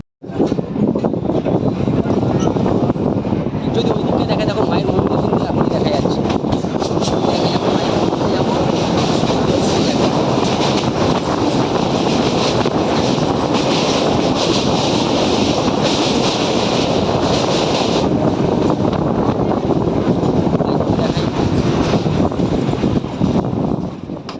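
A local commuter train on the Bali Halt to Sealdah line in Kolkata runs at speed, giving a steady, loud rumble and wind roar heard from on board that carries on unbroken throughout.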